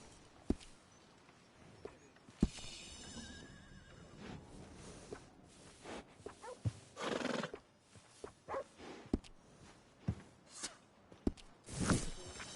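Horse whinnies and hoof clip-clops in Red Dead Redemption 2, several loud neighs and snorts scattered among close footfalls and shuffling, with no speech.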